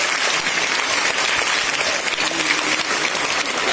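A room full of school students claps together in sustained, dense applause, loud and close, holding an even level throughout without any talk over it.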